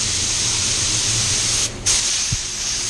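A spray gun lays a medium wet coat of PPG Waterbase paint over smoked tail lights, producing a loud, steady close-up hiss that cuts out briefly and then resumes.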